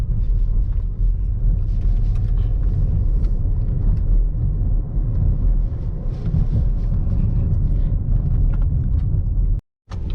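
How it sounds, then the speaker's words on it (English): Interior of a 2016 Buick Lacrosse cruising on the highway, a steady heavy low road rumble with wind noise and small bumps throughout, no talking. "Now we're back on the highway."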